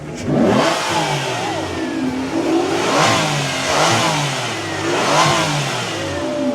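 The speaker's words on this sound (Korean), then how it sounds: "엔진 소리 너무 좋지 않아요?" An Aston Martin with a V12 engine revs at a large car meet, rising and falling in several loud, throaty surges over a continuous engine drone, close by with no talking.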